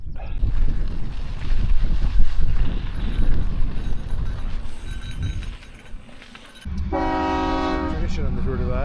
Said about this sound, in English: the super long train crossing